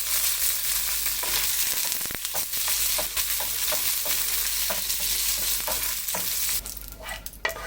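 Mustard seeds, dried red chilies and curry leaves sizzling in hot oil in a pan, a loud continuous frying hiss with crackles and pops, and stirring scrapes near the end.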